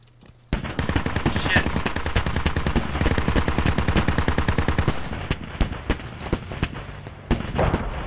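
Heavy automatic cannon fire from a BTR armored vehicle in the military video game Squad hammers out in a loud, rapid, steady stream, then breaks into shorter bursts and scattered single shots.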